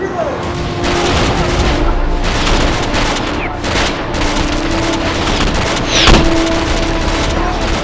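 Rapid gunfire from a gun, loud and dense bursts running continuously with sharp cracks and booms, and shouting voices are heard through the barrage.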